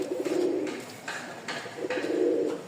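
Pigeons coo close by in a small loft, several soft throaty rolling calls repeating in a steady pattern, with light rustling and fluttering between them.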